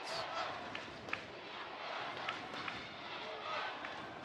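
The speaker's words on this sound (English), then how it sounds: "The crowd's chanting for their defense." A football crowd at a South Division Championship game chants for its defense, a dense, steady roar of many voices at a distance with faint rhythmic rises throughout.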